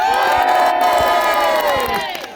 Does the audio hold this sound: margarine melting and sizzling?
no